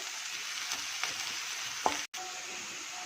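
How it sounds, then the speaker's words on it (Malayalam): Chicken and garlic stirred in a hot frying pan, a soft continuous sizzle with a few faint scrapes of the spoon and a brief clink, close and fairly quiet with no talking. "ഇനി നമുക്കിതിലോട്ട് കുറച്ച് വെളുത്തുള്ളി എന്നിട്ട് നന്നായിട്ട് ജസ്റ്റ് ഒന്ന് ഇളക്കി കൊടുക്കുക"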